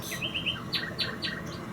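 A young orphaned sparrow gives a rapid series of thin, high chirps, several quick calls in a row, close and fairly clear over a soft background hiss.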